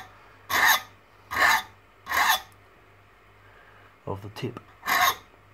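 A file rasping a small bevel onto the edge of a steel broadhead blade, four distinct evenly spaced strokes followed by a brief voice and one more stroke.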